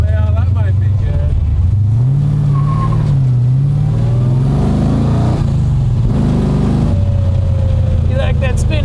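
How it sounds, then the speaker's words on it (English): A 327-powered Chevy Nova spins a tire, the engine roaring and revving with a rising and falling whine and tire screech, loud and close, with people talking over it. "You like that spinning tire, do you?"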